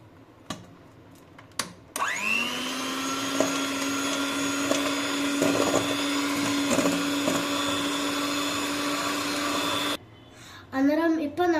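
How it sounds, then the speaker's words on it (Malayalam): An electric hand mixer starts with a whir and runs steadily for about eight seconds, beating butter and sugar for a sponge pudding, loud and close before cutting off, with brief speech following. "ഇനി നമ്മൾ ആ ബട്ടറും ഷുഗറും കൂടി സ്മൂത്ത് ആവുന്ന വരെ ഒന്ന് മിക്സ് ചെയ്യുക"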